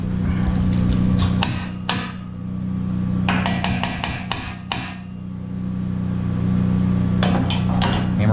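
Sharp hammer blows land in bursts: a few single strikes, then a quick run of several, then another cluster, over a steady low mechanical hum.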